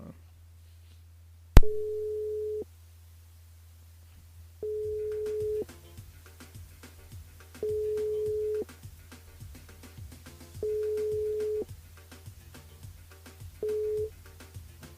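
A radio show's studio line rings out to call back a listener, sounding five long, steady electronic ring tones with silent gaps between them, following a sharp click as the line opens. Faint background music plays underneath.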